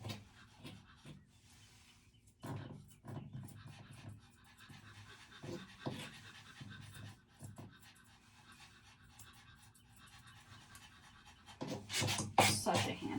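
A Maltese dog pants in rapid, irregular bursts during a grooming session, close and fairly quiet, with occasional rustling and a louder stretch of handling noise near the end.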